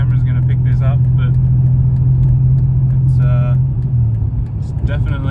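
A turbocharged Ecotec engine in a BMW E46 runs rough, making a close, steady low drone with slight unevenness. Brief bits of voice come through over the engine.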